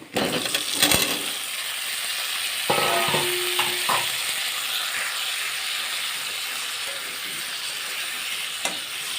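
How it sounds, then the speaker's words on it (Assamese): Potato pieces fry with onions, turmeric and salt in hot oil, giving a continuous close sizzle and hiss, broken by a few metallic clinks and scrapes of stirring. "এতিয়া আলুখিনি দিওঁ, আলুখিনি ভাজোঁ ভালকৈ।"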